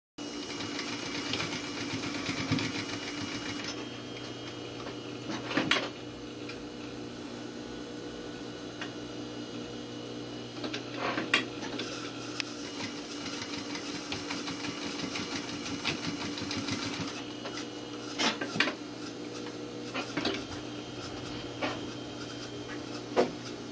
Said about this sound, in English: I'm just going to put a little back stitch in here